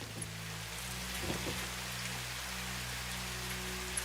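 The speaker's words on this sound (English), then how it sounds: "It's raining." Steady rainfall in the factory-building game Satisfactory, a dense, even hiss of rain on surfaces lasting throughout, with low machinery hum underneath and no talk.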